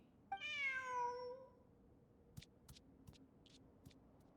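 A cat meows once in Genshin Impact, a drawn-out falling cry near the start, followed by a few faint clicks over quiet game ambience.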